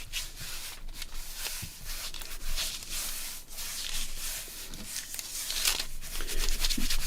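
Fingers rub firmly over paper during journal making, a dry, gritty swishing that comes in irregular strokes, close and fairly faint, with no talk.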